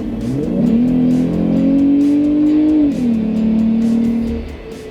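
A Jeep Gladiator with a Stage 2 tune and tuned exhaust revs loudly up close, the engine note climbing, holding a steady drone, dipping, then settling into a second sustained roar before tapering off.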